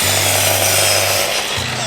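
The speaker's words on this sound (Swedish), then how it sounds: "fortsätter att såga upp kottlingar" A power saw whines through wooden boards with a steady buzzing drone, briefly dropping off and then starting again near the end.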